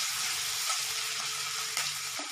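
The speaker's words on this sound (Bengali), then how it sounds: "পেঁয়াজগুলো হালকা ভাজা হলে তবেই আমি আদা রসুন বাটাটা দেবো" Onions frying lightly in oil for a pointed gourd and prawn pulao make a soft, steady sizzle and hiss, with a low, rhythmic hum under it and a brief scrape near the end.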